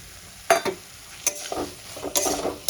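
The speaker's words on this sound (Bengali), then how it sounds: "এবার আলুটা দিয়েও মশলার সঙ্গে খুব ভালো করে কষাতে থাকবো।" Fried potato pieces stirred through spices in a hot pan for a Bengali boal fish curry, giving a few short scraping and sizzling bursts with quiet gaps between them.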